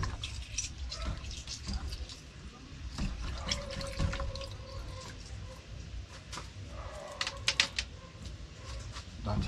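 Pimento berries are rinsed under running water in a home kitchen, with splashing and dripping that rise and fall, a few sharper clinks and splashes near the end.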